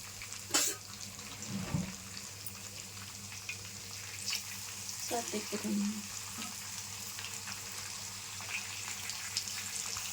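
Pieces of a large fish fry in oil in a pan, with a steady sizzle, occasional stirring and scraping, and a few louder clatters near the start, quiet and close.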